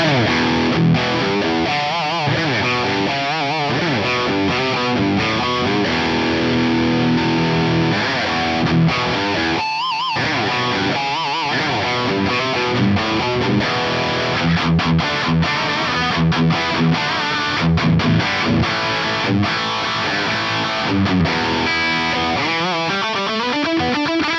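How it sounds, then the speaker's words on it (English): Electric guitar played through an ISP Theta X in its aggressive, modern Theta distortion mode, dense and loud, with chugging riffs and sustained chords continuing throughout. "That Theta mode is a lot more aggressive and modern sounding"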